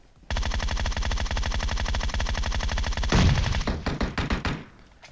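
Sustained automatic gunfire in PUBG Mobile, a loud rapid burst of regular shots running about three seconds, then a heavier crash and a string of separate, uneven shots before it fades.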